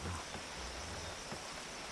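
Rain falling in the video game ATLAS, a soft steady hiss of drops, faint and continuous with no voices.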